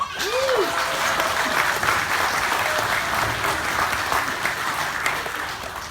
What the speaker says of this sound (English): give a big round of applause for the winner of this year's Easter competition, Miss Malili Toma'oi.